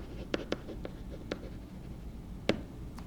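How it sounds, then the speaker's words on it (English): A pen scratching on paper in a few short strokes over steady background hiss, quiet and close, with no one talking. "now we're going to write our wrap-up sentence"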